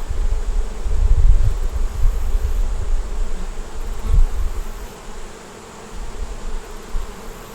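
Honey bees buzzing around an open hive, a continuous close hum with louder swells as bees pass near, alone without talk.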